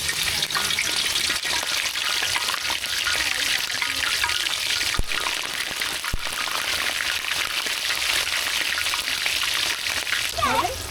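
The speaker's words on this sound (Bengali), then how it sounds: "বিরিয়ানি রান্না করার জন্য চিকেনটাকে ভেজে নেব।" Chicken marinated in lemon juice and salt sizzles in hot oil in a wok for biryani, a continuous close crackling fry with occasional stirring clinks and faint voices in the background.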